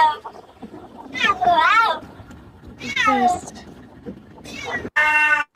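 A house cat meows several times, long drawn-out wavering cries separated by pauses, close and loud, ending in a short sharp meow.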